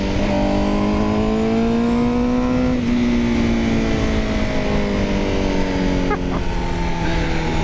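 A 2020 Honda CBR1000RR-R SP sport motorcycle with 217 hp accelerates hard on the road, its engine note climbing steadily through the gears with brief dips at gear changes, loud and continuous, with wind rush underneath.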